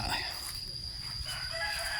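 Chickens and ducks cluck and crow nearby over a steady background hiss, the calls overlapping in a busy, continuous farmyard chorus.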